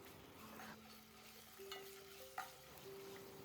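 Ginger garlic paste stirred and frying in a pan for a home-cooked chicken dish, a soft steady sizzle with a couple of brief scraping knocks of the spoon, close and fairly quiet, no voices.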